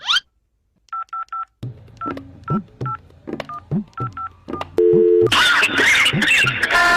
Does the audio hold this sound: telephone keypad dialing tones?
yes